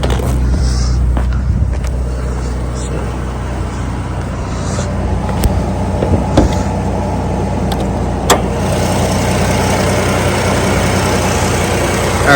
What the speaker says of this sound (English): So this is General Motors Vortec 4200 inline 6-cylinder